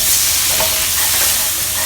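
Brown sugar and fermented soybean paste are stirred in a hot wok for Singapore mee siam, giving a continuous close sizzle and hiss with faint scraping as the spatula moves.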